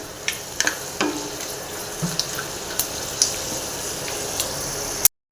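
Seasoning for chitranna rice frying in a pan, a steady close sizzle with scattered small pops and crackles, no talking.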